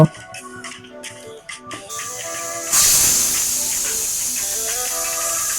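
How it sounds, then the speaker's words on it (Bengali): Pressure cooker with rajma (kidney beans) in water, first faint kitchen clatter and tones, then a sudden loud, sustained hiss of escaping steam that carries on to the end. "এবার ঢাকনা দিয়ে আমি এখানে পাঁচটা সিটি দেব"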